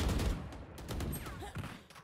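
Rapid bursts of gunfire in the tactical shooter Valorant during a competitive match, several close, loud volleys in quick succession with faint voices underneath.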